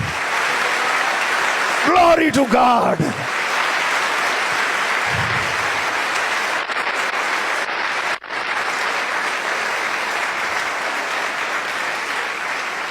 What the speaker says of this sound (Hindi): मेरा दिल चाहता है जिंदा यीशु के लिए जोरदार ताली।